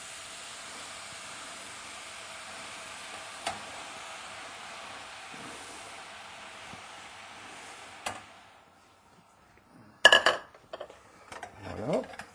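Mushrooms sautéing and being stirred in a pan for a ficelle picarde, a steady hiss of cooking under faint clinks, then a quieter pause before sharper scraping and clattering of utensil against pan near the end.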